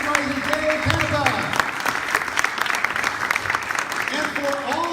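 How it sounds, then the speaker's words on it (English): Sustained applause from a political rally crowd, dense clapping that fills the full stretch with a voice or two calling out near the start and end. "Big round of applause for San Mateo County Supervisor Dave Canepa."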